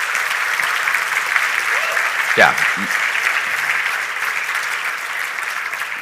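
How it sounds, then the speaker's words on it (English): Audience applause at a programming conference keynote, dense and steady for the full six seconds, with a brief voice rising over the clapping midway. "Let's give them a round of applause"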